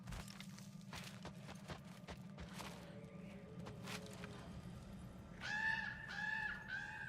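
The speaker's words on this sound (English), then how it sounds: "What's up, bird?" Faint, distant bird calls in God of War Ragnarök sound over a low ambient hum, scattered short chirps early, then a run of louder harsh, squawking cries near the end.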